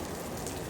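Heavy rain from Typhoon Ragasa falling in Xaisomboun, Laos: a dense, steady hiss of downpour, close and continuous, in a brief burst with no voices.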